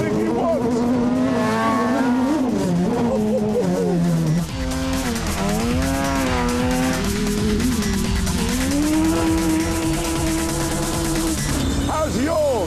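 A high-performance quad bike with Brembo disc brakes and a limited-slip differential accelerating hard, its engine note rising through repeated gear changes, loud and close, with voices talking over it.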